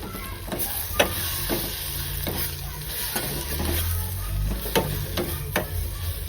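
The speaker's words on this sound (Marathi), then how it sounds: "पुन्हा एकदा ते चांगलं मिक्स करून घेतो" A masala onion-tomato gravy for dhaba-style Malvani chicken sizzles steadily in a pan, with repeated close scraping stirs of a spoon every half second or so and no talking.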